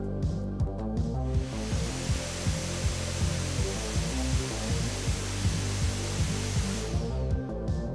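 Cooling fans of an Acer Predator Triton 500 SE gaming laptop, three fans with a smaller middle one, give off a steady close whooshing rush with a faint high whistle, starting and stopping abruptly.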